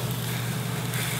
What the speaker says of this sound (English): I'm gonna grab my lamb shanks and I'm gonna put them in the pan.